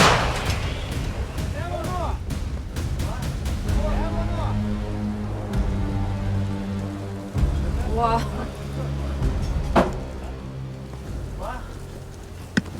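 Several heavy booming artillery blasts ring out over steady rain-like noise and outdoor rumble in a war zone in southern Ukraine, with voices talking nearby between the shots.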